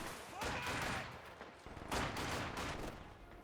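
MG42 machine gun fire in the strategy game Company of Heroes 2, two long rattling bursts of rapid shots with a pause between, fairly distant and low in level, with a voice talking faintly underneath.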